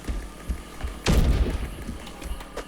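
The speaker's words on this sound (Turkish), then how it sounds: "bomba at eşyaların içine" A single heavy bomb blast in the video game Propnight lands about a second in: a deep, close boom that rumbles briefly and then fades under low background game noise.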